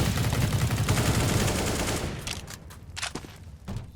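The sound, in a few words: flashbang and gunfire in a shooter video game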